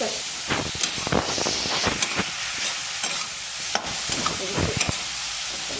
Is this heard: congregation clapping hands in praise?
no